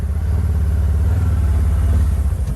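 A custom V8 5.0 Ford Ranger with cut mufflers runs loud and close, a steady deep engine rumble with a rough, throbbing low-end pulse held throughout.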